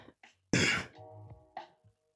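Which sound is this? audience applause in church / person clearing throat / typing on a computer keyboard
person clearing throat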